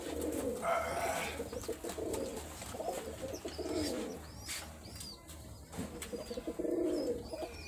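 Rajshahi local highflyer pigeons coo steadily nearby, repeated low rolling calls overlapping in a loose rhythm, with occasional wing flaps and faint chirps.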